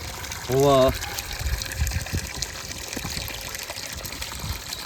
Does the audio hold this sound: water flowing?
yes